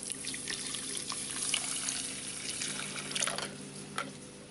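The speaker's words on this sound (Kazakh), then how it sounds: "Үстінен су құямыз." Water is poured over poppy seeds in a bowl while preparing a cookie filling, giving a steady, close splashing trickle with a few brighter drips and no voices.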